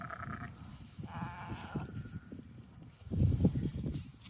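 White Dorper sheep in a flock grazing on orchard-grass pasture give a couple of wavering bleats. The bleats sit over a steady outdoor rustle, with a louder thumping burst of movement near the end.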